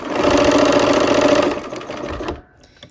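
A sewing machine stitches a quarter-inch quilt seam on pieced strips, a steady loud close whir that runs for about two seconds, then slows and stops.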